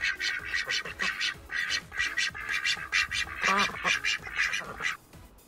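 A duck on a river quacks in quick, nasal, repeated calls at close range, forming an uneven, lively series of about a dozen quacks.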